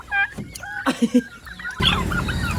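A white chicken clucking in short, close bursts with a few low gobble-like calls, followed by a steadier rush of background noise toward the end.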